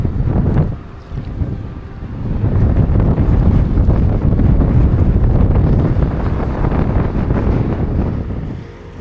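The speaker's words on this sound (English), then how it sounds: "We woke up the next morning to yet another windy storm." Gusty storm wind buffets a moored narrowboat on a UK canal, a loud, steady roar with rumbling gusts and microphone buffeting that dips briefly then swells again and holds for the rest.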